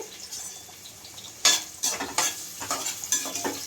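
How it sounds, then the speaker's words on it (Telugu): Onions fry in a pan for a Telugu chicken curry, a soft sizzle broken by several sharp, near bursts of stirring and scraping in the pan. "ఉల్లిపాయలు వేసేసుకొని బాగా గోల్డెన్ కలర్గా వచ్చేంత వరకు బాగా వేసుకోవాలి"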